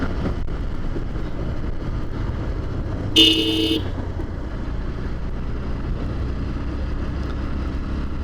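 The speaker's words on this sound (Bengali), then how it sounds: "বাই সাইড থেকে গাড়িটা আসলো" A car comes in from the side onto a main road between Mohammadpur and Chaugachha, heard from a vehicle moving at speed: constant road and engine rumble with one short horn toot partway through.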